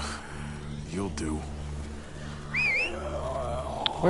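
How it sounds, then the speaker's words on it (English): Whistling in Telltale's The Walking Dead video game: short rising and falling whistled notes come through mid-clip over a low ambient drone, with a quieter voice audible. "Why would you whistle?"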